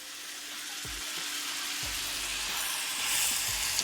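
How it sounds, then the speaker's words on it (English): Buttered rye bread laid butter side down in a hot pan for a patty melt, producing a continuous close sizzling hiss with a few soft low thumps from handling, no speech. "Butter side down with your rye bread."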